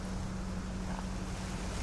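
Wind blows into a microphone outdoors in a garden, a dense low rumble with a steady faint hum underneath, short and unbroken.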